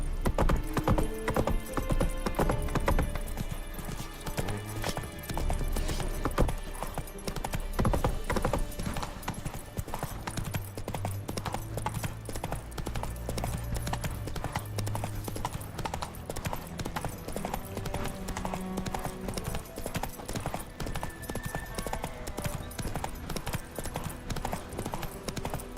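Hooves of Roach, a horse in the video game Witcher 3, galloping in a rapid, steady clip-clop rhythm throughout, loud and close, mixed with game music and ambience.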